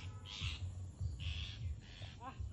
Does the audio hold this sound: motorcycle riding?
no